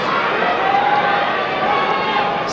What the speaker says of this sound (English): Crowd thoroughly enjoying this